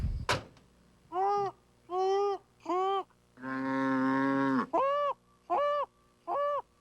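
Cows on a farm moo in a string of short, evenly spaced calls with one long drawn-out low in the middle, loud and close, after a sharp click at the start.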